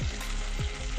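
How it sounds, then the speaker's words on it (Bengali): Chopped green chillies fry in a pan of oil with ginger and garlic, giving a steady close sizzle broken by a few quick stirring scrapes, with no talk. "চারটে যে কাঁচা লঙ্কা কেটেছিলাম সেটা দিয়ে দেবো, ভেজে নেব।"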